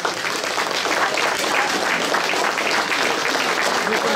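Thunderous audience applause for salon founders Denis and Chris at the Vallan superhero convention awards ceremony, dense continuous clapping from a large crowd, loud and steady throughout, with faint crowd noise mixed in.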